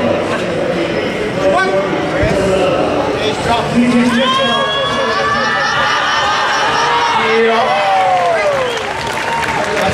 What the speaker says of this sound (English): Give him a round of applause, make him feel welcome all the way from Melbourne